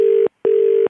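Telephone line tone after a call is hung up: two steady electronic beeps of equal pitch, each about a quarter second long, separated by a short gap, loud and clean with no talking.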